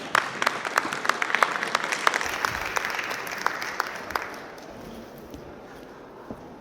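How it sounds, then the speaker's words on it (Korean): An audience at a Korean healthcare forum claps to welcome a speaker, brisk crowded applause with sharp individual claps that tapers off and fades out after a few seconds. "큰 박수로 청해 듣도록 하겠습니다"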